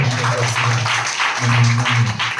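Applause from an audience at a Kothapeta government hospital development committee meeting, welcoming newly appointed committee members; a steady, fairly loud patter of many hands that continues without pause over a low background hum.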